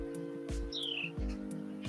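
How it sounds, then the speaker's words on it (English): Birds chirp faintly in the background, a couple of quick bright tweets and one longer sliding whistle, heard over a steady low electrical hum. "I hear birds."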